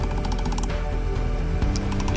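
A hammer works metal off the edge of a stake in French repoussé flower making, a rapid, continuous metallic rattling of dense strikes, close and loud, with no voices.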